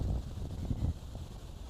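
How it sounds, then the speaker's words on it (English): Wind buffeting a microphone outdoors at a racetrack on an early fall morning, a low, uneven rumble with gusty swells, close and moderate, with no talking. "A little windy,"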